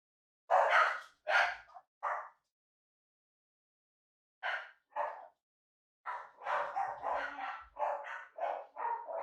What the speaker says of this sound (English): The dogs are barking a little bit